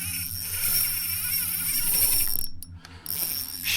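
Fishing reel drag ratcheting in a steady, rapid clicking run as a small jewfish pulls line during a winter session on the Hawkesbury River, Australia, loud and close with a brief dropout near the end.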